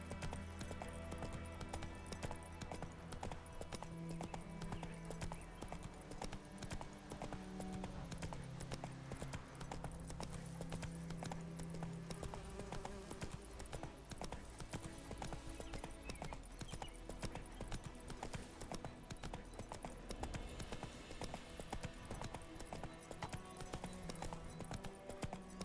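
Roach, a horse in The Witcher 3 video game, gallops with steady, rhythmic hoof clip-clops that run the whole time under a dense, loud game soundtrack and ambience.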